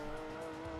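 Gran Turismo 2 race car braking hard and dropping down to second gear, a steady loud engine drone with tonal whine over a brief moment, no talk.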